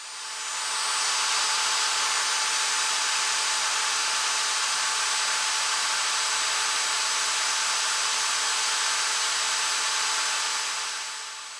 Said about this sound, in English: You'll see little strands start coming off as you get deeper and deeper with that drill bit